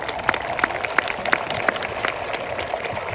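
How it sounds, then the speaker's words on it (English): Applause from an audience at an ANZAC commemoration ceremony for students in Melbourne, a steady patter of clapping hands lasting a few seconds with no talk over it. "Yes, I think a round of applause is due."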